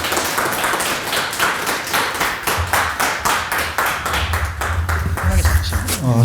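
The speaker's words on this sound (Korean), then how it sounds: "박수로 맞이해 주시기 부탁드리겠습니다." An audience at a youth center business briefing claps in welcome, a steady round of applause that grows denser and louder toward the end, with a voice speaking over it.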